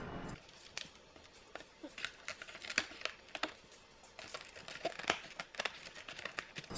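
Tin snips cutting thin sheet metal for the headliner of a 1938 International pickup, a close series of irregular crisp snaps and crinkling clicks, uneven in rhythm and moderately loud.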